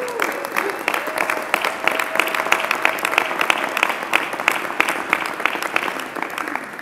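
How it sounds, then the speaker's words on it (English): An audience at a mayor's budget address bursts into sustained applause, dense steady clapping filling the room for several seconds. "You can clap for that."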